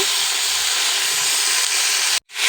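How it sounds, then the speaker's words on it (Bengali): A steady, loud sizzling hiss of fried potato and cauliflower being stir-fried with spices in a pan, continuous and close, cutting out abruptly near the end before resuming. "তারপর আমি ভেজে রাখা আলু ফুলকপিগুলো দিয়ে দেবো তারপর মশলার সঙ্গে একটু নেড়ে চেড়ে ভালো করে কষিয়ে নেব"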